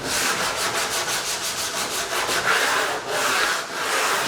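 Sandpaper rubs back and forth along the edge of a prefinished white oak veneer pocket door, a close, steady run of rhythmic scratchy strokes with no voices.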